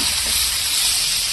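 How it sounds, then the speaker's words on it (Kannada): Chicken pieces frying in a pan for a home-style chicken saaru give off a steady, close sizzling hiss that runs unbroken throughout, with no talking. "ಈಗ ನಾನ್ ವೆಜ್ಜನ್ನ ಫ್ರೈ ಮಾಡ್ತೀನಿ ಇದೇ ಒಂದು ಇದರಲ್ಲೇ"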